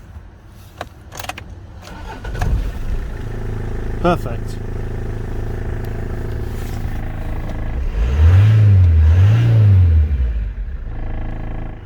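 Keys jangle and a starter cranks before a car engine catches and idles, then revs twice in rising swells; a voice speaks briefly.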